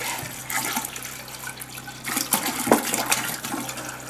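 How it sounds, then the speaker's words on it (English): Water rushes and splashes steadily into a tank, a loud continuous pour with a low mechanical hum underneath. "So now we can add water to the top of the tank."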